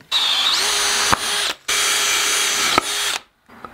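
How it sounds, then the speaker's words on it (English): Power drill boring a roughly one-inch hole, two sustained high whining runs each about a second long, spinning up and then cutting off, close and loud with no talking. "I need to drill a hole big enough for that."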